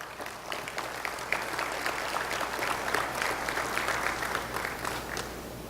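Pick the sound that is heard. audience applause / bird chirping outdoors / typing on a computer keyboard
audience applause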